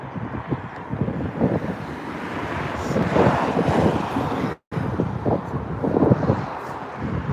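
Continuous rumbling road traffic with gusty wind buffeting the microphone, swelling and fading as vehicles pass, with a brief dropout midway.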